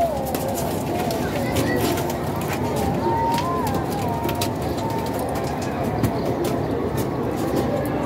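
Teddy pigeons coo softly in a loft over a steady, dense background of rustling and ambient noise, with low cooing phrases heard near and continuously throughout.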